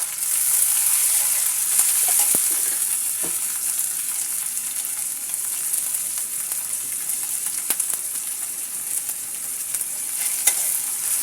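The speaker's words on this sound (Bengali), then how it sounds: "মশলাটাকে আমি ভালো করে কষিয়ে নিচ্ছি" Onion paste and spices frying and being stirred in a pan for a Bengali rohu fish-head muri ghonto, with a steady loud sizzle and occasional scraping clicks throughout, no talking.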